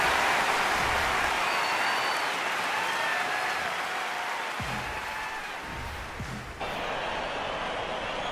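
Stadium crowd in the AFL Evolution football game roars and cheers steadily throughout, a dense, continuous wash of noise with a slight shift partway through and no clear talk.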